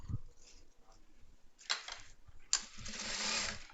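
A sewing machine stitches sports track pants during an alteration, running in two short bursts of whirring, the second longer, in a quiet room.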